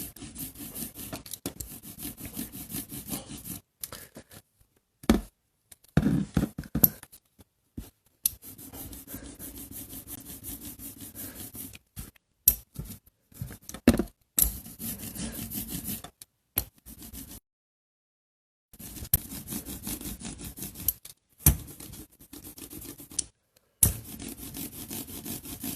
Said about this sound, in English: So you just rub some ink over it.